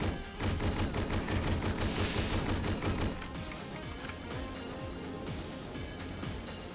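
Sniper and other gunfire in the video game Hedon Bloodrite: a loud, dense fusillade of rapid shots for the first few seconds, then sparser, distinct cracks and thuds continuing at a lower level.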